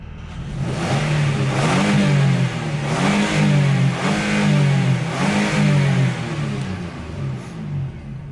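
A 2016 Nissan NV work van's engine runs loud and close, pulsing through repeated rev swells every second or so over a steady low drone, with no voices.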